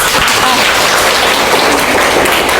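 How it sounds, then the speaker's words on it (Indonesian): An audience in a classroom claps together, a steady, dense wash of applause that stays loud and even from start to finish with no voices over it. "berikan aplaus"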